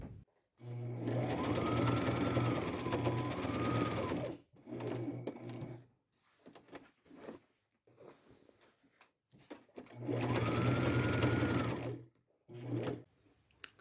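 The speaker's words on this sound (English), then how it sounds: "Now it's time to sew. I'm going to start as close to that finished seam as I can" A sewing machine stitches a curved seam on thrifted bib overalls being turned into a skirt romper, running in two long steady bursts of about four and three seconds with shorter starts and stops between them, close and loud.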